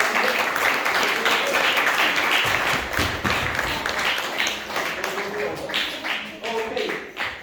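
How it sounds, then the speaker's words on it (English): A graduation audience claps for two graduates, a steady, dense wash of applause from many hands lasting throughout, with faint voices mixed in. "Another round of applause for these 2."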